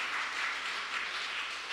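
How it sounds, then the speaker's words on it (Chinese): A church congregation claps to welcome a sister during a Sunday worship service, a steady broadband wash of applause running evenly throughout, moderately loud and with no talk over it. "拍手欢迎她，欢迎柯姐妹"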